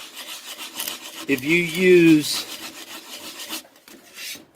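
Sandpaper rubs over a wood surface in a short, loud rasping stroke with a whistling pitch, followed by quieter rough scraping.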